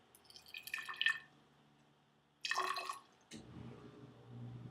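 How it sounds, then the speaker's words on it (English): Water dripping through a soil sample during a lab test: a few separate drip sounds, sharp and close, with quiet gaps between them and a low rumble at the end. "I'm going to let that keep dripping"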